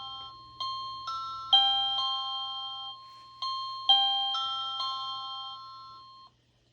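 An OhmKat doorbell playing chime tune number 13, a more classical melody: bright electronic bell notes ring out in two matching phrases of overlapping tones, clear and alone, then stop.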